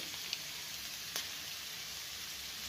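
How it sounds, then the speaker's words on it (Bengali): Sauces poured into a hot pan with spring onion greens, giving a steady broadband sizzle throughout with one brief sharper crackle midway, close and fairly quiet, with no talking. "তো আমি সসগুলো দিয়ে দিচ্ছি আগে"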